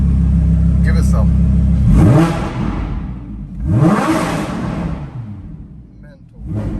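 A straight-piped Lamborghini Huracan V10 in Corsa mode idles loudly, then snaps through two sharp, howling revs that fall away each time, with a third rev starting at the end.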